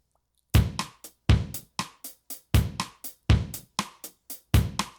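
Drum-like MIDI sixteenth notes play with Logic's swing 16 groove at 90% timing, giving loud, punchy hits in an uneven, lilting pattern with no talking over them.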